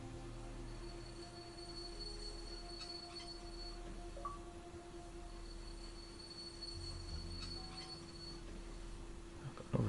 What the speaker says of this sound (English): Well, I see a train running.